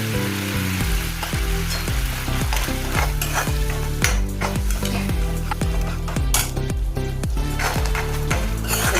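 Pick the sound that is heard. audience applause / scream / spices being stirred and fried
spices being stirred and fried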